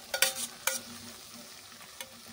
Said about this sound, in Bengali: এবার কেটে রাখা ঝিঙেগুলোকে দিয়ে দিচ্ছি।